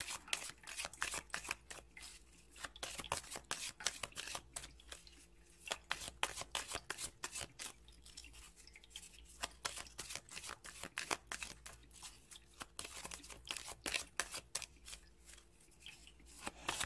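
Tarot de Marseille cards are shuffled and drawn in a steady run of crisp riffles, snaps and flicks, quiet and close.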